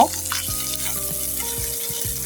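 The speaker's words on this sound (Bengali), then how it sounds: "এখন আমি এটি একটু ভেজে নিব" Pieces of meat sizzle in hot oil in a pan, a steady close crackle running throughout with a low hum beneath and no voices.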